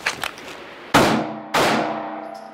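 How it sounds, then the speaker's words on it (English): Two handgun shots fired from the draw on an outdoor range, each a sharp, loud crack with a ringing decay, spaced about half a second apart after a few faint rustles. "Draw and fire two on this iteration."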